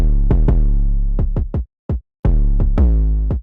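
A busy pattern of punchy kick drum hits layered with deep, booming 808 bass notes that slide and decay, several quick strikes with short gaps.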